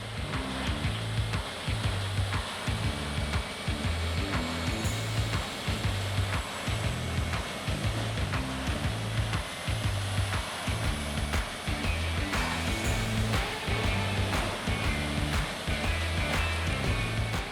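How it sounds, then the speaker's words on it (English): An Ultec WC126 2009 drum wood chipper runs continuously, a loud, even mechanical roar with a regular pulsing low thump as wood is fed through and chipped, steady throughout. "the Ultec WC126 2009 drum chipper effectively turns wood into chips"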